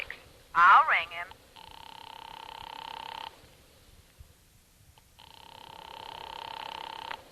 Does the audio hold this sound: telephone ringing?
yes